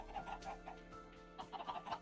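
A Minecraft chicken clucking, soft repeated clucks in two short bursts separated by a brief lull, faint against a quiet game background.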